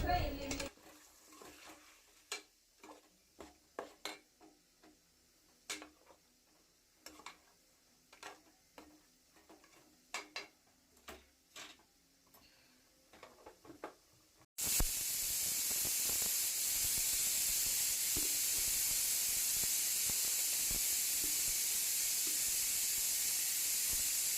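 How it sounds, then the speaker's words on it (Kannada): Ground masala with ginger garlic paste fries in a pan for a Sunday chicken dish. A close, loud, steady sizzle and hiss fills the second half, after earlier scattered stirring clinks and scrapes. "ಚೆನ್ನಾಗಿ ಫ್ರೈ ಮಾಡಾದಮೇಲೆ ನಾನು ರುಬ್ಬಿಟ್ಕೊಂಡಿರೋ ಅಂಥ ಮಸಾಲೆನೂ ಕೂಡ ಹಾಕಿ ಚೆನ್ನಾಗಿ ನಾನು ಫ್ರೈ ಮಾಡ್ಕೊತಾ ಇದ್ದೀನಿ"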